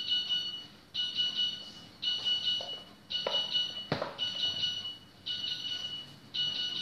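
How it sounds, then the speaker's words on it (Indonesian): A home oven signals it is done with a repeating electronic beep, several evenly spaced bursts of high alarm-like tone, fairly clear in a quiet kitchen with a brief knock partway through. "Sana oven saya sudah berbunyi."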